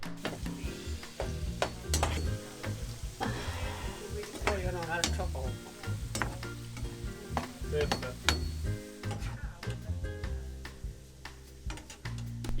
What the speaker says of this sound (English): She heats some sunflower oil in a frying pan and fries her meatballs until they're browned and cooked